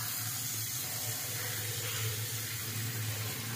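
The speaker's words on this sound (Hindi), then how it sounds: "इसमें पानी बड़ा सॉफ्ट चलता है और फोर्स भी बहुत ही अच्छा दे रहा है।" Water runs steadily from a Jaguar swan neck sink tap, a soft, even, continuous stream close by with no talking.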